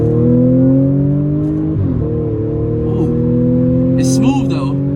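A modified supercharged Audi S4 accelerating hard at full throttle, its loud steady engine drone climbing in pitch through the gears, with a brief dip at a shift partway through.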